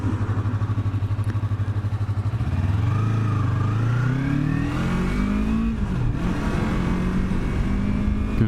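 A 2017 Yamaha YZF-R3 sport motorcycle idles with a rapid throbbing pulse, then its engine revs up in rising, whining sweeps, close by and loud.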